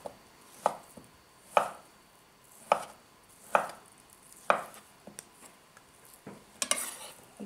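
Knife chopping halved boiled potatoes on a cutting board for a chicken, corn and mayonnaise salad, about seven sharp, evenly spaced knocks, close and fairly loud, with softer clatter near the end.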